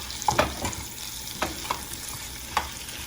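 Onions and eggs sizzle in a frying pan for huevos rancheros while a utensil stirs them, with a steady fry hiss and a few distinct scraping clacks scattered through the clip.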